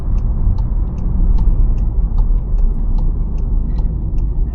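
VW Golf 7 R-Line with a 1.4 TSI engine and DSG gearbox turning around at night, heard from inside as a steady low engine and road rumble with a regular ticking, like an indicator, and no voices.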